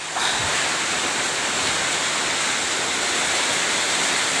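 Floodwater rushes steadily during bad weather, a loud, continuous broadband roar like churning surf that holds without a break from start to finish, with no voices.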